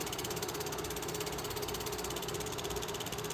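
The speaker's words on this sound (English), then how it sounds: "this right now is the engine passing back in the reverse position for a photo run by" Steam locomotive 2839 on a 1979 excursion runs past in reverse for a photo run-by, giving a loud, steady mechanical rumble and hiss that holds for the whole stretch with no voices.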